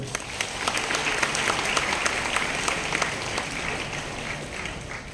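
A crowd applauds steadily at a public talk, a dense patter of many hands clapping at a moderate distance, holding for several seconds.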